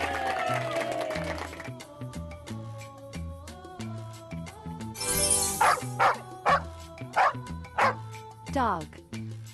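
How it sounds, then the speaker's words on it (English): Cartoon dog barks in a children's animal puzzle game: a run of short, loud yips and woofs over bright background music, with a voice present. "Dog."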